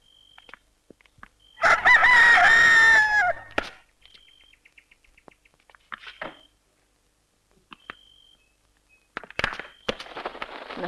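A rooster lets out one loud, close cock-a-doodle-doo, followed by scattered quieter clucks and rustles, then a short burst of noisy scratching or flapping near the end.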